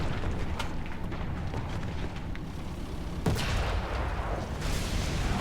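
A tank cannon fires once partway through a War Thunder match, a sharp heavy blast rising out of a steady low engine rumble and battlefield noise.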